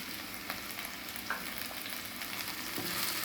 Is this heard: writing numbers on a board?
no